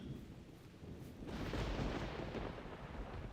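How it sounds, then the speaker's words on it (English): Heavy thunderstorm rumble in the hunting game theHunter: Primal, a broadband roar of rain and thunder that swells louder after the first second and stays dense and loud throughout, with no talking. "Because of the thunderstorm."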